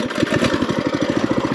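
A cheap, crude trail bike engine runs with a rough, rapid low chugging pulse, close by and steady through the short stretch, with no voices.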